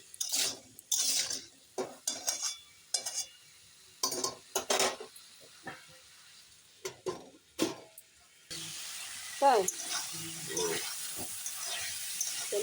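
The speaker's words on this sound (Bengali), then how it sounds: "এখন ভালো করে নেড়ে ঢাকা দিয়ে দিই" Curry of Malabar spinach with soybean being stirred in a pot, a run of short scraping and clinking utensil strokes, then steady hiss and sizzle after the lid goes on, close and moderately loud.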